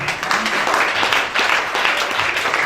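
A church congregation at a worship service applauding, dense steady clapping from a crowd filling the room throughout, fairly loud and unbroken.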